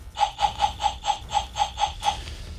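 A vintage battery-powered Power Rangers glove toy plays an electronic sound effect, nine evenly spaced pulsing bursts in a quick loop, loud and close.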